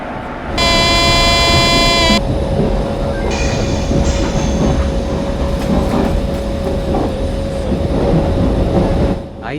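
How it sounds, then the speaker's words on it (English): A train departs a station in a train simulator game: a loud buzzer tone sounds for about two seconds, then the rumble and clatter of rolling rail cars continues steadily. "Depart from station and attain the speed of 40."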